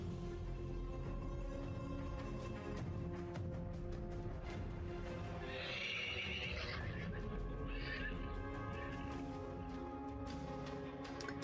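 A horse sound effect plays during a tabletop role-playing game session, with two short, distant whinnies rising over a steady bed of atmospheric background music.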